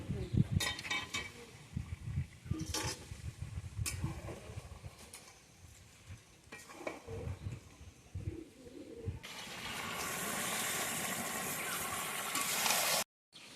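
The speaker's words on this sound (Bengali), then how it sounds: "তো জল গরম করে নিয়ে এসেছি ঘর থেকে, তো এখন জলটা দিয়ে দিচ্ছি" Hot water pours into a pot of country chicken curry (kosha mangsho) in a steady, loud rushing stream for a few seconds, following scattered clinks and kitchen knocks.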